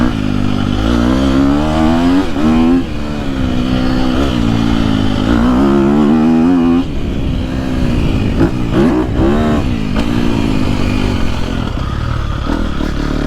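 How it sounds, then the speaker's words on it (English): A 2022-2023 KTM SX-F four-stroke dirt bike engine revs hard and freely, climbing and dropping through repeated loud, rising pitch sweeps, close up and alone. "and it revs so freely now"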